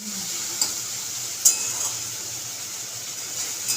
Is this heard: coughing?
no